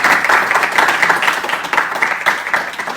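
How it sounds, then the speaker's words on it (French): A studio audience breaks into applause, dense and fairly close clapping with small surges, sustained for about three seconds with no talk. "On peut applaudir quand même."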